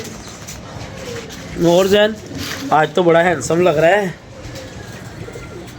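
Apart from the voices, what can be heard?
pigeons cooing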